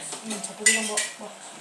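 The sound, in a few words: dishes and pots being gathered up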